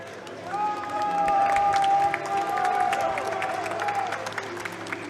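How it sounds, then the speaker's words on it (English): A crowd at a LAN esports tournament cheers and claps, a sustained whooping cry standing out above scattered applause and hubbub for a few seconds before easing off. "We got a roaring crowd over here."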